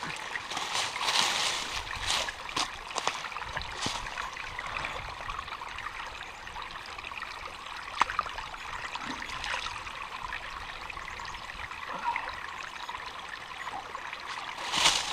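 Steady broadband rushing of a small stream of water along a lake hiking trail runs throughout, continuous and fairly close, with a few faint knocks and rustles.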